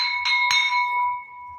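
A small brass hand bell rings with bright, clear tones during a Satyanarayan puja, two quick strikes close by, the ringing tone sustaining and slowly fading.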